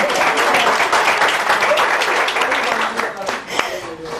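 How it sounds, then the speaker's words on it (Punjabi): An audience applauds a student in a lively comedy setting, a dense wash of clapping held for several seconds, thinning slightly toward the end with a few sharper claps. "ਤਾੜੀਆਂ ਵੱਜਣਾ ਚਾਹੀਦੀਆਂ ਤੁਹਾਡੇ ਵਾਸਤੇ"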